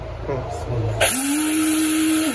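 A mixer grinder with a lid switch starts up after a brief voice and then runs as a loud, steady whining motor hum, close and continuous to the end.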